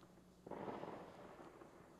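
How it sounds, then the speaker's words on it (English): Fireworks burst in a Batman radio noir drama, a single muffled boom followed by a rolling, crackling rumble that fades slowly, distant and soft under quiet ambience. "Adds a somber note to the fireworks, I think."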